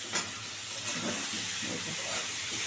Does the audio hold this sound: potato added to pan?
yes